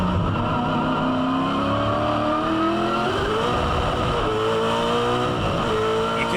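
A V8 Supercar engine roars on board at Winton Raceway in 2007, revving up and down through gear changes with rising and falling pitch, loud and continuous.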